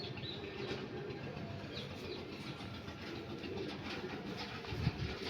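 Pigeons of the Panjabi Malwai breed coo softly in a loft, low and faint beneath a constant broadband background hiss and rumble.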